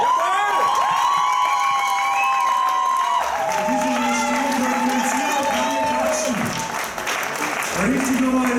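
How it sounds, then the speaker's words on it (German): Audience at a German youth, junior and masters bodybuilding championship applauding and cheering steadily, with whistles and shouts layered over continuous clapping throughout. "Jetzt will ich das Publikum noch mal richtig hören"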